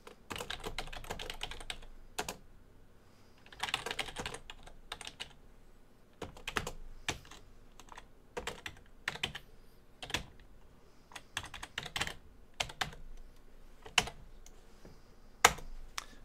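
Bursts of rapid clicking from a computer keyboard come in irregular clusters with short pauses between, close and fairly quiet, with no one speaking.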